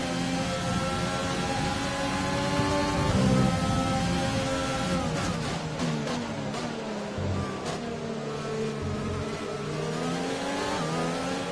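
Formula One car in the F1 2020 racing game accelerating out of a hairpin, a loud, steady engine whine climbing in pitch through rapid gear changes, with other cars' engines buzzing alongside.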